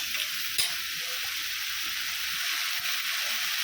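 Onions, tomatoes and vegetables sizzle steadily as they are stirred and sautéed in a pan for a Ramnad-style kalani thanni kuzhambu, a continuous close frying hiss with no talking.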